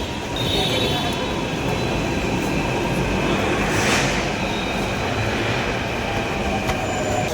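A metro train in Delhi runs with a continuous loud rumble and rattle of wheels on rail, with a brief metallic squeal near the middle and faint crowd noise in the carriage.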